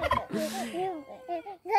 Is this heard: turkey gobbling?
yes